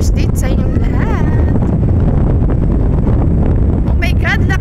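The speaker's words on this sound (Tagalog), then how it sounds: "Wow, lakas ng alon, guys." Strong wind buffets the microphone at Merimbula Beach in Australia, a loud constant roar with crashing waves beneath it and people talking over the top.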